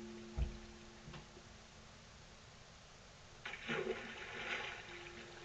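Water splash from fishing in the Minecraft video game, a faint quiet clip with a short soft plop near the start, then a brief swishing splash later.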